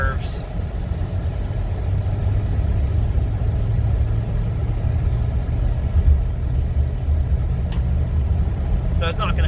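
A 1978 Dodge Aspen Custom sedan with original paint and 26,500 miles drives along a curving road, its engine giving a steady low rumble heard from inside the car, with a faint click or two.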